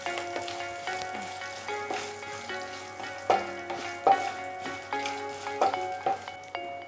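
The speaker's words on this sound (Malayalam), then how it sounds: "ഇനി അടുത്തായിട്ട് ചേർത്ത് കൊടുക്കുന്നത് കശുവണ്ടിയാണ്." Cashews sizzle softly in a pan for rava khichadi, a low steady fry broken by light stirring clinks, with faint tonal background music running underneath.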